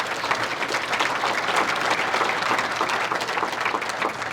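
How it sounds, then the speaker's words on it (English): An audience at a motorsports hall of fame induction ceremony claps steadily, a thick, sustained burst of applause with scattered sharp hand claps standing out near the front. "Round of applause for Joe Bessie."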